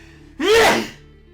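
A single sharp sneeze bursts out close by, loud and brief, with a quiet room behind it.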